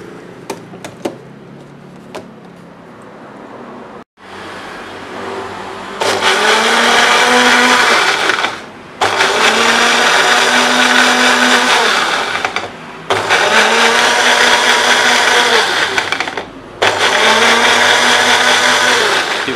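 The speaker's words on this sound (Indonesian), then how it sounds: "Nah, sekarang proses blendernya." A loud blender grinding turmeric whirs in four bursts separated by short pauses, its motor pitch dipping and rising as it grinds, after some clattering handling noises.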